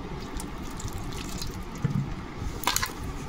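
Water splashes and trickles as a ripe palm fruit is washed by hand at a sink. Faint running water is broken by a few brief louder splashes near the end.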